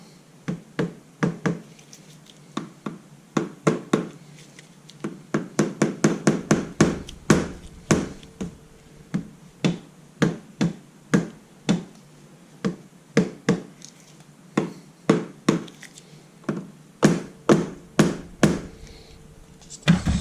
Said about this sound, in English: Now the mandatory appearance by the rubber hammer.